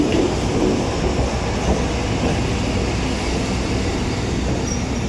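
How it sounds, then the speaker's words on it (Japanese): A JR Hokkaido local diesel train pulls into a station on the line toward Asahikawa, a loud steady rumble of wheels and rails with faint squeal filling the whole stretch, no talking. "実質46220で旭川へ直通する46580が入ります。"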